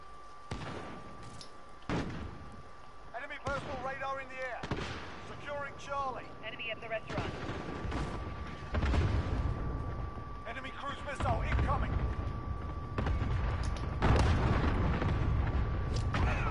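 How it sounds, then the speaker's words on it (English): Explosions from a precision airstrike in a multiplayer shooter game, heavy booms and impacts thudding repeatedly through the clip, with game voices and player chatter talking over them throughout. "Precision airstrike, that's gotta be coming down here."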